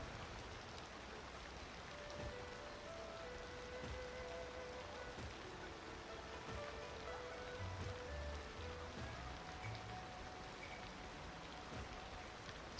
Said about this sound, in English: It's raining today at our beach.